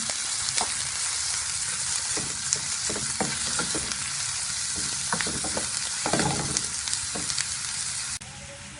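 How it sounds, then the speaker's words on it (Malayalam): Onions with a little salt sautéing in a pan for an egg puff filling, a steady loud hiss of frying with repeated spatula scrapes and stirring clicks, close by and with no talking. "നന്നായി വഴറ്റിയെടുക്കാം"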